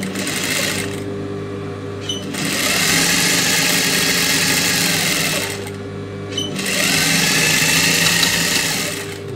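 A sewing machine stitches the neck border of a blouse in two steady runs of fast, close mechanical whirring, separated by brief quieter pauses, with no speech.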